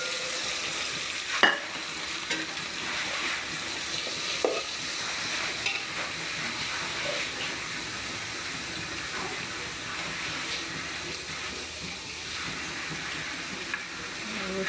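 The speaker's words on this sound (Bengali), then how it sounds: "প্রথমে পেঁয়াজ মরিচ ছেড়ে দিলাম গরম তেলে" Onions and chillies frying in hot oil, a steady broad sizzle running throughout with a few sharp clinks of a stirring utensil, close and moderate in level.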